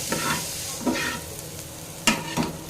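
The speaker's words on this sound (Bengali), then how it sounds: "তো সমস্ত গুঁড়ো মশলাটাকে এখন একটু ভালো করে আবার একটু ভেজে নেব।" Ground spice masala, including Kashmiri chilli powder, frying in a pan for a brinjal and egg dish, with a soft continuous sizzle broken by several spatula stirs and scrapes, close and without talk.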